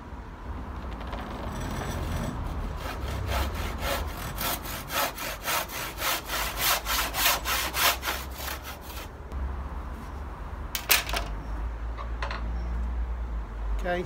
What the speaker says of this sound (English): use a saw designed to cut straight,